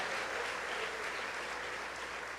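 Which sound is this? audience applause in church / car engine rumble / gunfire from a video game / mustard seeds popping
audience applause in church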